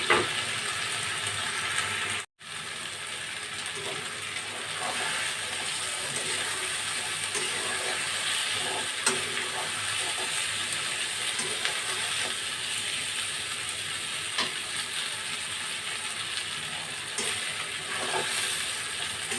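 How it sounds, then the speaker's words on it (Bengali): Beef sizzles in a pan as its juices cook off for a traditional-style Bengali beef curry, a steady, moderate hiss that runs almost unbroken apart from one brief cut near the start. "মাংসগুলো প্রায় ভাজা হয়ে এসেছে।"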